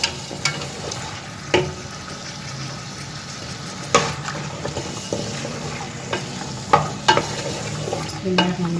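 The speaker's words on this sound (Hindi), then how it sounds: "इसको हम सबको मिक्स करके भून लेंगे अच्छी तरह से" Minced meat with potatoes, peas, tomato and dry spices is stirred and fried, a close sizzle punctuated by repeated sharp scrapes and knocks of the spoon in the pan at an uneven rhythm.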